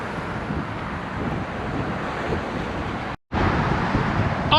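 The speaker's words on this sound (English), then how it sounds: "it is very windy here in Texas today" Strong wind on South Padre Island, Texas, roars as a steady, dense broadband rush buffeting the microphone, interrupted by a brief cut of silence before resuming just as loud.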